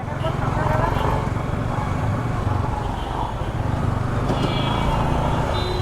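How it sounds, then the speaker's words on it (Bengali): Motorcycles ridden past on a road make a continuous low engine rumble close by, while people talk over the noise. "বাইক রাইড করতেছে তো কথা বলতে একটু প্যারা হইতেছে"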